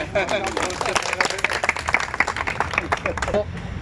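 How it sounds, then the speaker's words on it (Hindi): An audience at an Aam Aadmi Party event in Faridabad claps for a welcomed guest, with scattered hand claps mixed with voices and talk over a lively, uneven background. "आपके ताली बनती है"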